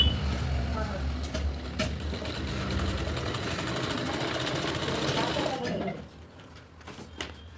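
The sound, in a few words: sewing machine stitching a blouse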